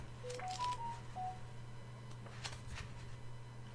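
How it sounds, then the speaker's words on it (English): A mobile phone chimes a short rising run of bright electronic notification tones, then one more tone a moment later, heard faintly over a steady low hum in a quiet room, with soft shuffling after. "That was my phone"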